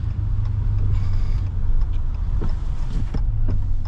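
Dodge Challenger 392 Shaker pulling away from a dead stop, a deep, loud V8 rumble that swells and surges with a few sharp revving bursts.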